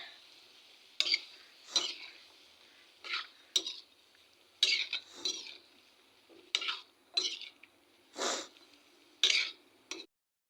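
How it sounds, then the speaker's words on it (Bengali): Vegetables being stirred in a pan during a large-batch home cooking session, heard as a series of about a dozen distinct scraping, clattering strokes in an irregular rhythm, close and fairly clear, with no talking. "আমি সবজিগুলো দিয়ে দিয়েছি। এবারে ভালোভাবে নেড়ে"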